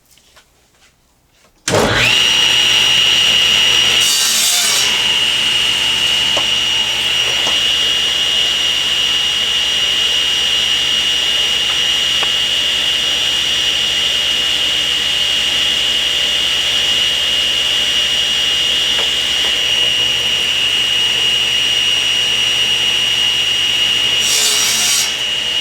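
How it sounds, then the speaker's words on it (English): Power saw cuts a warped wooden board to length, spinning up suddenly after a brief silence into a loud, sustained high whine that holds steady for over twenty seconds with brief bursts of harsher cutting noise. "now I need to square up the one end and then cut it to 60 inches long."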